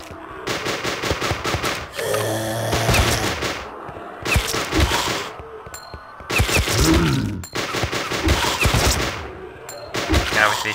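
Guns fire in bursts in zOMGies, a zombie video game: rapid, loud machine-gun volleys broken by short pauses, with thuds and impacts mixed in.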